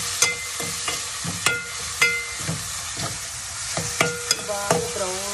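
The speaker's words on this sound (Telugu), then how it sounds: "బాగా బ్రౌన్గా వచ్చే వరకు వేగాలి." Fish frying in a pan with oil, sizzling steadily while a utensil scrapes and stirs in regular strokes about every half second, close and fairly loud, with no talking.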